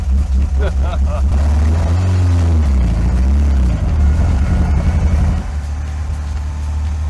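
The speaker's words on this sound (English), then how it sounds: "Nothing like the sound of Italian motor." A 1955 Alfa Romeo Zagato, an Italian car, runs with a loud, steady engine drone that rises and falls in pitch as it revs, then settles to a lower, quieter note near the end.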